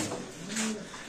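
A large exhibition pigeon of the Mundian breed gives a single soft, low coo, close by but faint, with no talking.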